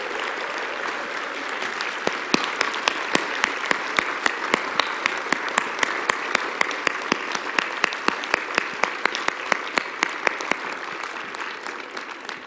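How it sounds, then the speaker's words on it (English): Audience at a conference closing session breaks into a sustained round of applause, dense clapping steady throughout with sharp individual claps standing out, no talk over it. "can we please give a big round of applause to these people?"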